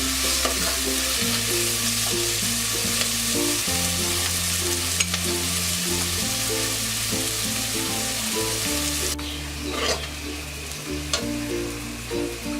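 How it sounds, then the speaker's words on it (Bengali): Onions frying in a pan with salt added, a steady loud sizzle with spoon scrapes and stirring strokes throughout, under a sustained background tone, no talking. "লবণটা দিয়ে পেঁয়াজটা ব্রাউন কালার করে নেব।"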